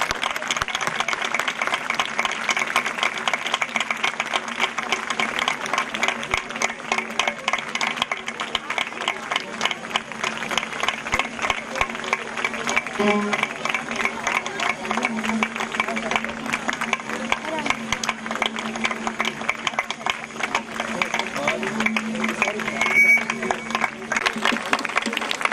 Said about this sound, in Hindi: तालियों की आवाज न रुके।